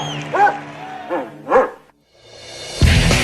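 A dog barks three times in loud, close, evenly spaced woofs after its record-setting high jump, climb and toy retrieval, then a brief pause gives way to crowd noise and a burst of music.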